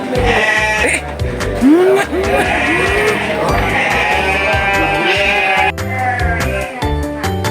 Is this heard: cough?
no